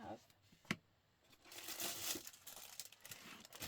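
Soft plastic bag crinkling and rustling in bursts, close by, during book spine repair with glue, with a sharp crackle early on and denser handling later.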